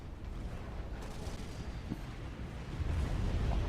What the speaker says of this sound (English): it's getting absolutely pounded by the artillery